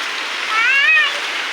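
Steady rain pours down around a countryside family home, a continuous even hiss with a brief high tonal call rising over it midway.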